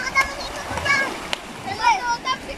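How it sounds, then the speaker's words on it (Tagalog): Children splash and play in sea waves at a beach, with repeated water splashes and kids' voices mixing near the camera, under a person talking throughout. "Ayan, nagtatampisaw na sila sa alon."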